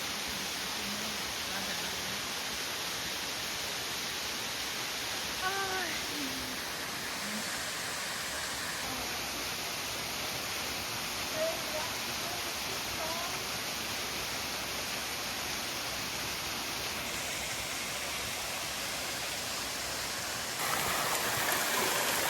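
Water runs steadily across a walking path on Madeira, a continuous broad rushing wash that stays even and fairly close throughout, with a few faint bird chirps and a brief thin tone over the top.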